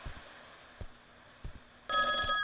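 A telephone rings in the video game The Backrooms: Survival, with a loud ringing burst that starts near the end after a few soft thuds and footsteps in a quiet room.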